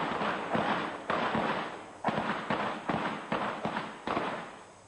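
Shootout from an old western film, with a rapid series of sharp, loud gunshots cracking out one after another in an uneven rhythm over a noisy background.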